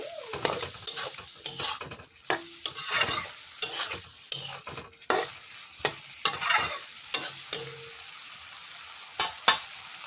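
Green chili paste stirred in a pan with mustard, a utensil scraping and knocking the pan in uneven bursts over light sizzling, close and clear with brief pauses between strokes.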